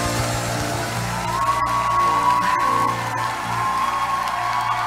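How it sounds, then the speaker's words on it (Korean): A church congregation applauding during a night vigil service: a dense, sustained wash of clapping and cheering that holds steady over a held musical tone throughout. "Damos otra vez un fuerte aplauso a nuestro Padre Celestial"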